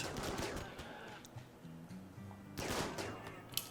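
Rapid gunfire in RimWorld as colonists shoot at a grizzly bear, bursts of overlapping shots at the start and again near the end over a steady game background.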